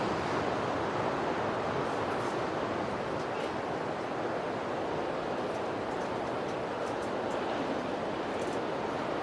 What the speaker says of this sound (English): That's where the waves are happening.